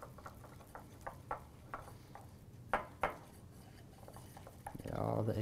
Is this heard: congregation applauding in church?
no